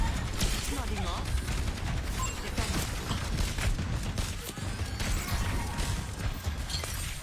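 Gunfire in the Warzone video game, dense bursts of shots and mechanical clatter running continuously, mixed with game sounds and voices talking throughout.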